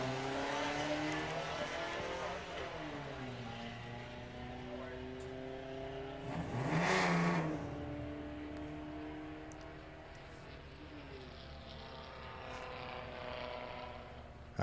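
A Golf GTI drag racing car accelerates down the strip at a drag racing festival, its engine note rising through gears as it passes, a loud swell in the middle, while a commentator talks throughout.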